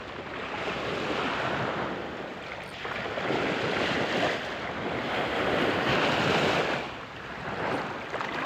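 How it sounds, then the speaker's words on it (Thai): Strong wind and rough sea waves on a coast during shore squid fishing, a continuous roaring wash of surf swelling and easing in slow surges, with wind buffeting the microphone throughout. "ช่วงนี้ทั้งลมทั้งคลื่นก็ ออกจะแรงหน่อยครับ"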